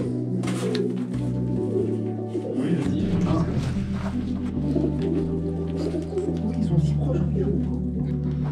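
Pigeons coo from a nest on a rooftop, with low, steady, rhythmic cooing close by throughout and people talking over it.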